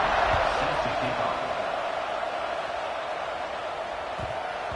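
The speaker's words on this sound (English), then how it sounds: "this crowd is buzzing after that last score" A college football stadium crowd buzzes with a steady, dense roar of many voices and indistinct chatter, holding fairly constant throughout.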